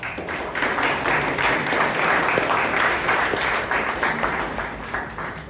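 Sustained applause from a Toastmasters club meeting audience in Bangalore, steady clapping filling the room for several seconds before tapering slightly at the end.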